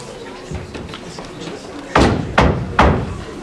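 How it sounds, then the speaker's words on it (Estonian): Three firm knocks on a door land in quick succession during a Christmas party nativity play, each one loud and sharp against a low background murmur. "Kuulevad uuesti koputamist."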